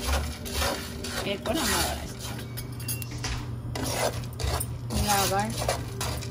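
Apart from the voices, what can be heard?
stirring frying koroi in a pan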